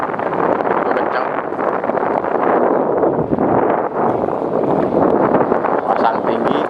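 Strong wind over the water at a harbor dam, a loud continuous buffeting rush across the microphone with faint voices underneath.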